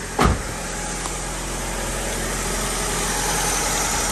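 A car engine idles steadily with a chattering bad drive belt, giving a continuous mid-level rumble after a brief thump at the start, with no talk.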